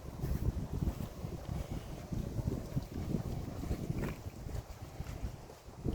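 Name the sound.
wind noise on microphone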